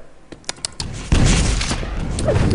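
Railgun fire in the Quake Live arena shooter during a competitive match: a few sharp clicks and snaps, then a loud, sustained burst of crackling gunfire close up.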